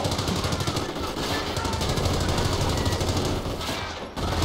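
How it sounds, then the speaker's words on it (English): Rapid machine gun fire in a strategy video game, a dense, loud stream of bursts that continues almost without pause for several seconds. "Oh, but there's an MG."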